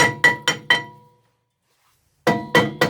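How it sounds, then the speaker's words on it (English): Metallic hammer taps on the rear brake disc of a Lexus GS250, four quick ringing strikes in a steady rhythm, a pause, then three more taps, close and fairly loud. "And we'll give a few taps to the brake disc."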